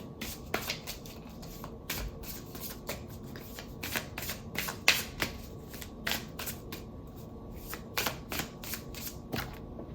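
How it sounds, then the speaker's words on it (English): Tarot cards being shuffled and drawn, a string of quiet, close riffling flutters and soft slaps in irregular bursts over a hushed background. "I'm going to pull one more card."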